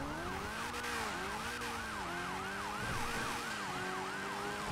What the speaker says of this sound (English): that guy's siren behind me?